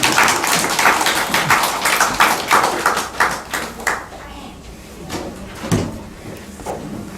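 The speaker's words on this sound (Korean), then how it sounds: "박수 한번 같이 해보겠습니다" Church congregation at a Sunday worship service clapping together in a steady rhythmic beat, loud and even at first, then thinning into scattered claps, with some voices underneath.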